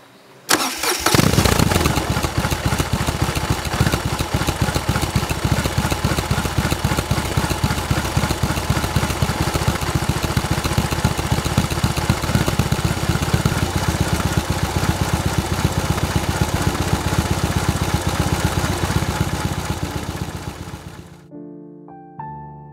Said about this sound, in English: before everything I want to turn on the engine